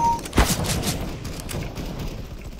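A sharp, close gunshot in CS:GO, followed by a loose run of fainter follow-up shots and game noise over a steady background hum.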